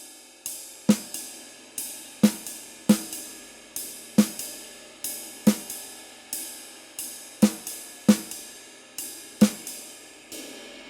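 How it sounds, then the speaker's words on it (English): Jazz drum kit playing steady quarter notes on the ride cymbal with snare notes placed in, each stroke a sharp attack ringing off, slow even rhythm, close and alone with no talk. "playing quarter notes on the ride"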